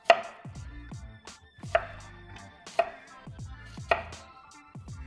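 A knife chops vegetables on a cutting board for seafood enchiladas, with four distinct, evenly spaced sharp chops, close and clear with no talking.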